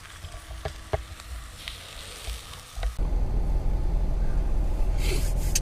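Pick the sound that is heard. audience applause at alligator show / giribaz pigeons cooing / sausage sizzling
sausage sizzling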